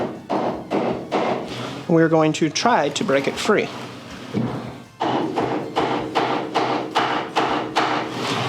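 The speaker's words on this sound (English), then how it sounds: "we're going to take a rawhide hammer" A series of rhythmic, fairly loud thuds, a rawhide hammer striking a wooden board on a planer flattening sled, interrupted midway by a person speaking, then continuing in steady blows.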